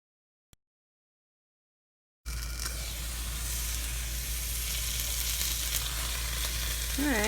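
An egg sizzles in a pan inside a zucchini boat, a steady close hissing crackle that starts abruptly after a couple of seconds of near silence and a single faint tick.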